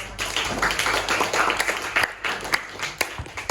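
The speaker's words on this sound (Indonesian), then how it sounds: "Oke, tepuk tangan" Students in a classroom lesson on resilience clap together in a short, uneven round of applause, with a few louder individual claps standing out near the end.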